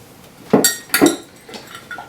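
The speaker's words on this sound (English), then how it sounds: "you put 2 ice cubes into your cup" Two ice cubes drop into a cup one after the other, each landing with a sharp, close clink and a short rattle, followed by a couple of fainter settling taps.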